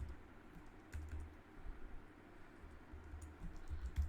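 Close keyboard typing as code is entered into a program: soft, irregular bursts of key taps over a low background hum, with no talking.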